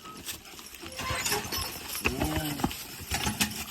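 A heavyweight Belgian draft horse working in the woods, hooves thudding and clip-clopping irregularly on the ground, close by, with a short spoken exclamation and voiced animal sounds partway through.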